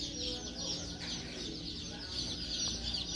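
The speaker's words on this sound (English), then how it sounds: "Look at all the little chicks." Poultry in a Tractor Supply farm store, with dense overlapping high chirps and cheeps from many birds going continuously under steady background hum.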